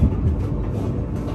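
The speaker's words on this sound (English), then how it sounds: "I will travel to Oishida on this train." Low, steady rumble of a Yamagata Shinkansen bullet train in motion, heard from inside near the door, a continuous loud drone with faint rail noise and no speech.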